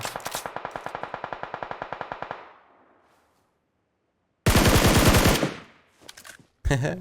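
Automatic gunfire from PUBG Mobile, a rapid burst of about twenty evenly spaced shots lasting two seconds, then a pause and a loud second burst of heavy shots with a brief tail.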